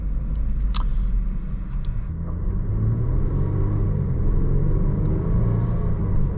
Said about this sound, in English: I do like how this Range Rover takes off from a stop